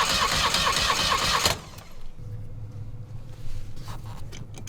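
A Volkswagen engine cranking without catching, a loud, rapid, rhythmic starter churn for about a second and a half that cuts off, leaving a low hum and scattered clicks.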